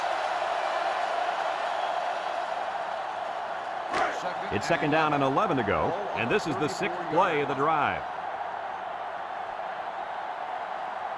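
A sellout stadium crowd in the video game NCAA Football 2005 at a Clemson versus Ole Miss game keeps up a steady, roaring wall of noise throughout, while a commentator talks over the middle stretch.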